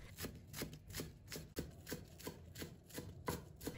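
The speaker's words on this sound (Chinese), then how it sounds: "葱叶切成葱花。" A knife chopping green onion leaves into small pieces on a cutting board, a quiet, steady rapid series of crisp taps, close and alone.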